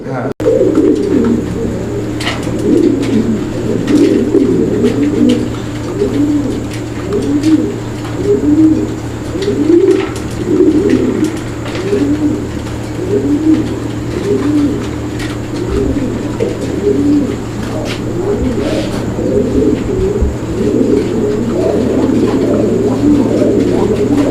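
Many pigeons on a breeding farm cooing in overlapping rhythmic bursts over a steady low hum, a busy flock heard close by throughout.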